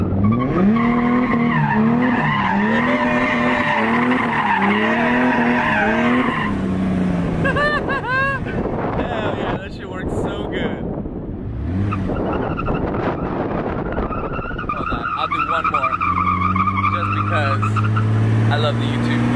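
A BMW E30 drifts through a donut. Loud, sustained tire squeal and skidding run over a revving engine that rises and falls, all heard close up. Voices can be heard over the noise at times.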